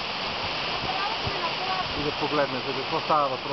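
Waterfall on Rila in Bulgaria at full seasonal flow, a steady loud roar of falling water with spray, a person speaking briefly over it near the end.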